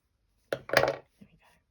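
Scissors snip a stitched fabric petal off linen embroidery, two close crisp cuts in quick succession followed by a couple of faint small rustles.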